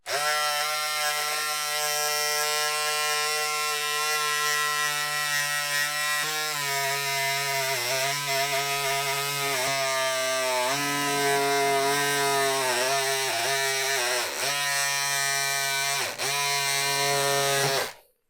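Electric scissors cutting fabric along a straight marked line at a sewing table, a steady loud motorized buzz running continuously with brief dips in pitch as the blade bites, no talking.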